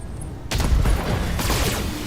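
A Hunchback mech's shoulder cannon fires in BattleTech, a sudden loud blast followed by a second boom and a rumbling tail, with no talking.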